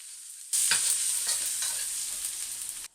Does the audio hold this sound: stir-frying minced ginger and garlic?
yes